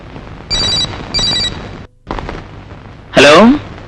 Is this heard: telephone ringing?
yes